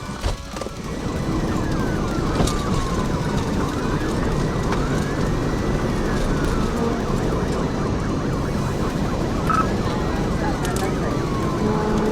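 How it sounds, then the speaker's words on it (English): A police siren wails steadily for the whole stretch, rising and falling in long sweeps over loud road and engine noise, as a trooper's car gives chase to a fleeing driver on South Division Street. "activating his lights and siren"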